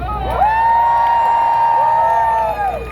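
A seated audience at a live comedy show in Jupiter, Florida cheers and whoops together in a loud, sustained roar that swells quickly and holds steady for about two seconds before tapering off.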